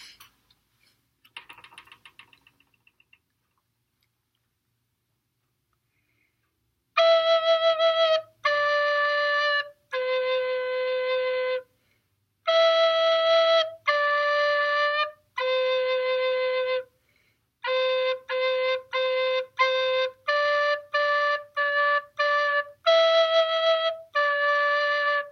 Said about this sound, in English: I will play Hot Cross Buns for you, and you can see what it sounds like on an alto recorder.